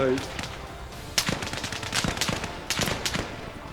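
Gunfire in the Arma Reforger video game: scattered sharp shots and short bursts of automatic fire, fairly faint and moderately distant, spread over a few seconds.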